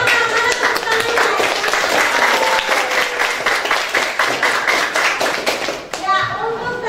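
Schoolchildren clap for the winning group in a classroom, rapid, loud clapping with children's voices chattering and cheering over it, ending abruptly before a brief burst of talk.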